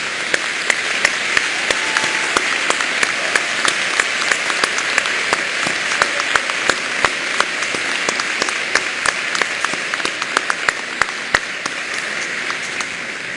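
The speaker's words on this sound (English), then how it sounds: "let's all give them a round of applause for all the help that they've given you." Sustained applause from a large crowd at a university convocation ceremony for science, business and economics graduates, an even roar of clapping punctuated by sharp, close individual claps.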